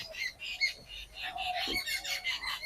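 Birds squawk loudly nearby in repeated harsh, overlapping calls, a busy chorus in a home kitchen while roti dough is being rolled.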